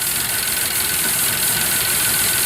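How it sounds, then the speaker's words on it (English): A car engine idles steadily and roughly up close, a continuous uneven rumble with a faint knocking pulse and no voices. "it's idling awfully rough."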